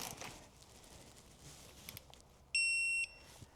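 A digital torque wrench on an 80 Series Land Cruiser front differential gives one clear, high electronic beep lasting about half a second, amid faint workshop clinks and rustling.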